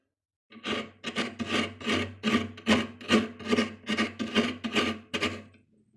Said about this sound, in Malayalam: ഇനി നമുക്ക് തേങ്ങ ചുരണ്ടി എടുത്തിട്ട് തേങ്ങാപ്പീരയും കൂടി ഇട്ട് കുഴച്ചെടുക്കാം